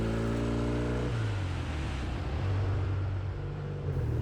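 A Norton Commando motorcycle cruises along a twisty country road, its engine a steady, close droning hum that shifts pitch about a second in, then holds an even throttle.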